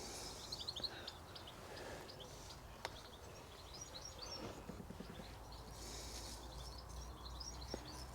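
Blackbirds and other birds sing at an allotment, faint scattered chirps and warbled phrases over a quiet outdoor hush, with no talking.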